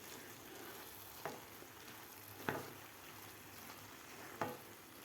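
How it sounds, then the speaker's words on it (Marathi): Grated carrot sautéing in milk over a medium gas flame, a soft steady sizzle with three sharp stirring clinks spaced through it, close and quiet, no voices. "5 ते 6 मिनिट दुधामध्ये परतून घ्यायचा आहे मिडियम गॅसवर"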